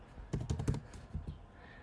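Typing on a computer keyboard during iOS programming work: a quick burst of clustered keystrokes in the middle, then a few scattered taps, close and fairly quiet with no talk.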